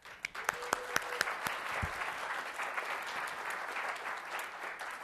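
An audience gives a big round of applause for a tech guy at a sysadmin conference talk, opening with a few sharp distinct claps that swell into sustained, fairly quiet crowd clapping.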